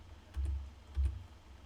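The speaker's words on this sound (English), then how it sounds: "I type in" A few soft keystrokes tap on a computer keyboard in a quiet room, brief and close, with a low hum underneath.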